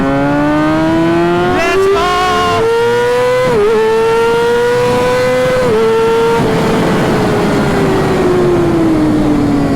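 A Kawasaki ZX-6R motorcycle engine revs at full throttle, close and loud. Its high-pitched whine climbs, dips briefly between gear shifts and climbs again, then slowly winds down at the end.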